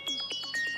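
A phone ringtone plays a short electronic melody of bright, stepped tones, loud and close, with no talking over it, in an Indonesian comedy sketch.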